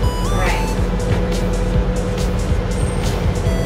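A Ferrari engine in a driving video game hums steadily and loudly throughout, with a continuous drone and faint shifting tones while a person talks over it.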